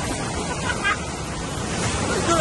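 Strong sea waves surge at Entalula Island in El Nido, Palawan, a close, continuous rushing roar of surf with voices calling out over it.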